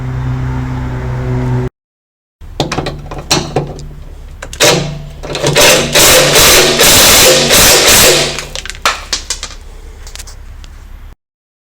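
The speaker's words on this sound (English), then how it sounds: "just wire brush around these plugs before we remove anything" A wire brush scrubs around the gearbox drain and fill plugs of a 2010 VW Crafter with a six-speed Shiftmatic automated gearbox, giving loud, close, rapid scratchy strokes that build into a sustained burst, then taper off and stop.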